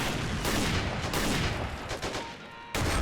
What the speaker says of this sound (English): Taking some fire from that light Caro tank over there.